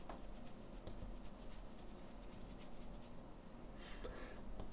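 Crayons scratch and rub across paper in quick, soft strokes, close and faint, with occasional sharper scrapes.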